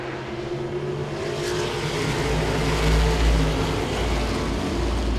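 Modified race cars circle Langley Speedway on a green-flag restart, engines roaring loudly and continuously, with a low rumble swelling midway as cars pass close by.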